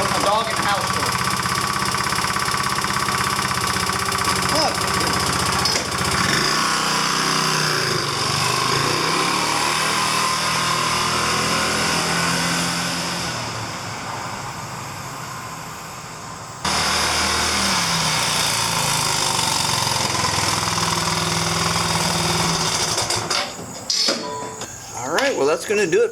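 A 2009 Genuine Buddy 125 scooter with a new drive belt buzzes steadily up and down a driveway, the engine note dipping and fading as it rides away, then returning loud and close before cutting off.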